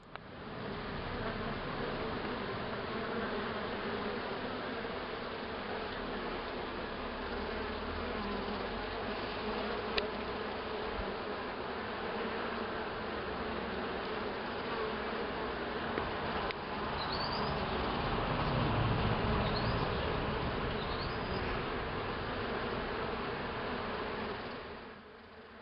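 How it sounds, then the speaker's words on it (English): Dense, steady buzzing of a honeybee colony at a beehive, a continuous drone from many bees heard up close for the whole stretch, with a few faint higher whines rising briefly near the end. "The multitude of all the individual bees constitute the oneness of the colony, the oneness of this animal."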